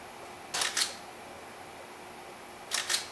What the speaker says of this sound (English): when I depress the shutter release, it works all right too